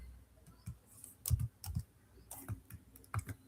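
Keys tapped on a computer keyboard while a code comment is typed for a Python queue solution, quiet clicks arriving in small irregular bursts with short pauses between them.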